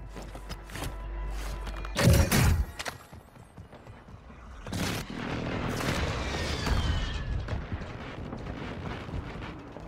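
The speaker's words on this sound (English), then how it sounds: "Friendly airstrike in the AO." Heavy booms from an airstrike in the Warzone Mobile shooter game, two loud blasts a few seconds apart followed by rumbling debris and scattered crackles of gunfire.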